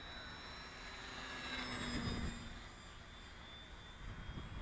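A Durafly Bravado 1000 mm 3D/sport RC plane, flying tail heavy, drones faintly at a distance as a steady motor whine that swells slightly and then fades.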